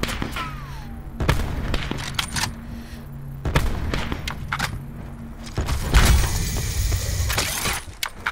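Gunfire in Call of Duty: Black Ops 4 Blackout on PS5, several sharp broadband shots and bursts spread across the clip with brief crackling, fairly close and loud over steady game ambience.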